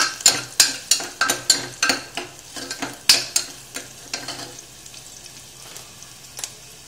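Chillies frying in a pan for masale bhat, with a utensil stirring and scraping against the metal in a quick run of sharp clinks over a soft sizzle that fades toward the end; no one talks.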